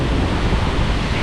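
Rushing water and gusting wind at the Siddheshwar waterfall near Alibag, a 300-foot fall used for rappelling: a loud, steady, broadband roar filling the whole moment with no break or voices.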